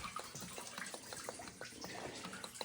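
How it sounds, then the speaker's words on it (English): Water drains and splashes from a plug under a 2014+ RAM 3500 diesel truck, a steady close trickle with scattered drips and small splashes throughout. "the plug is right down there where you see the water coming out"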